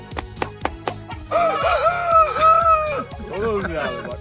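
A rooster crows loudly and close, one long drawn-out call after a few sharp knocks, followed by a shorter second crow.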